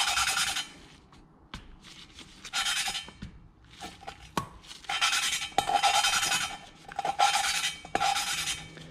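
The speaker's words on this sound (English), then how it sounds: "Lapping the valves in is not a substitute for a valve job." Valve lapping on a Mustang GT 2V PI cylinder head, abrasive compound grinding between valve and seat in repeated raspy back-and-forth bursts, close and fairly loud, separated by short pauses and light clicks.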